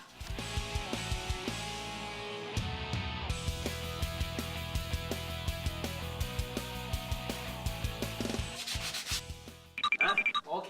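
Rhythmic sandpaper scraping against wood, steady back-and-forth strokes repeating for several seconds, close and fairly loud, ending with a few quick rougher rubs.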